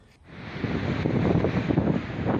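Strong wind buffets the microphone over the roar of sea waves on the coast at Pagudpud during Typhoon Marce, a loud continuous rushing that builds after the first moment and stays heavy throughout.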